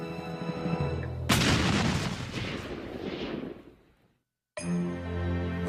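Cannon fire from the October 1835 Texian revolt, a loud booming blast that rolls into a long decaying rumble, then a moment of silence before music resumes; music also plays before the blast.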